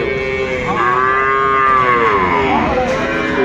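Sahiwal breed calves at a cattle market give loud, drawn-out moos close by, one long low call followed by a second rising bleat-like moo.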